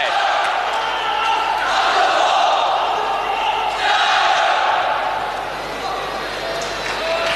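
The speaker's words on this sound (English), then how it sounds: "Crowds there chanting the name of Tang Ju Hong." A badminton crowd at the 1990 Asian Games women's singles semifinal chanting Tang Jiu Hong's name, a loud rhythmic roar of many voices rising and falling in waves over the arena ambience.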